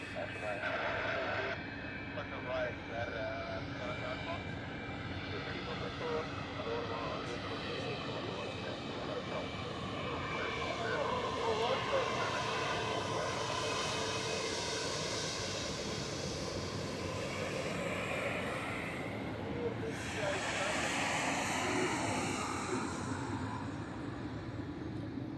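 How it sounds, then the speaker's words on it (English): Swiss Airbus A320-100 arriving at Zurich airport from London Heathrow, its engines a broad distant roar that swells and sweeps past through the clip, with background chatter over it. "inbound is a Swiss A320-100 from London Heathrow"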